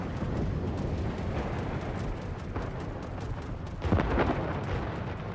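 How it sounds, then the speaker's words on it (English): Anti-aircraft barrage fire from a warship in the World of Warships naval combat game: a dense, continuous crackle of rapid gunfire bursts with a louder cluster of shots near the end, no voices. "Let's put up some AA barrage"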